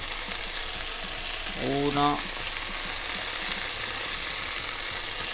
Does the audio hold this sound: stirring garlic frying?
yes